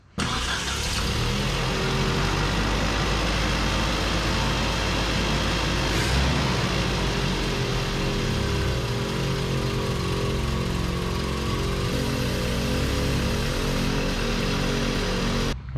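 A carbureted truck engine runs continuously up close, a loud throbbing idle that shifts pitch as the revs rise and settle.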